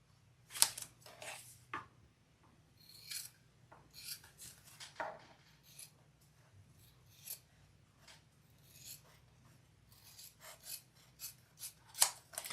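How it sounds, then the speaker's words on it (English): Scissors snip through zipper panels cut from fabric with zipper tape for a rounded sewn bag, giving a series of sharp, close cutting strokes at an irregular rhythm over a low steady hum, with no talking. "we're going to cut these into 4 equal zipper panels."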